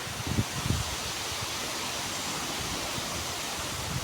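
A waterfall roars in a dense, steady rush of white water that fills the whole stretch, nearby and unbroken, with occasional low rumbling thumps underneath.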